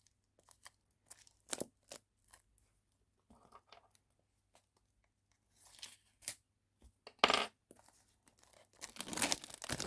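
A new circular tarot deck, a Rider-Waite-Smith 1909 original in a bright yellow circular box, is unwrapped close up: sharp tearing bursts and crinkling plastic come in scattered short bouts, with a longer rustling stretch at the end.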